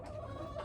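Around thirty chickens in a coop fitted with roosts give a continuous murmur of low clucking and soft calls, fairly close and steady, with no talking.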